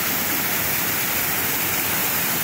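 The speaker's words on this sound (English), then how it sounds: "another section which cascades down some pretty rough tumbly rocks" Steady, dense rush of creek water cascading down rough, tumbling rocks, a constant broadband roar with no breaks and no voices.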